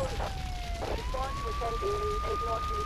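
A police siren in the video game Grand Theft Auto III wails and warbles during a chase, with other electronic tones and sound effects layered over a low rumble.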